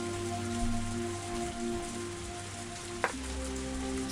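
Heavy rain in the visual novel Higurashi falls around a parked car, a steady dense hiss of drops on the surface with a low rumble beneath and one brief sharp tap partway through, with no voices.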